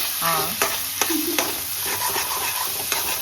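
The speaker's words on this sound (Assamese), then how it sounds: "চিকেনখিনি ফ্ৰাই কৰি ল'ম" Chicken fries in a pan for homemade momos, a loud close sizzle punctuated by repeated stirring clacks and scrapes of a utensil against the pan.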